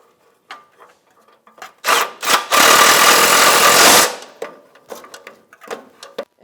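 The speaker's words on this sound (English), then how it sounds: "15 millimeter socket, and we're going to snug these up on both sides." A 15 mm socket snugs the oil pan nuts on a 1998-2011 Ford Ranger 3.0L V6, with scattered clicks and taps around a loud, steady buzzing burst of about two seconds.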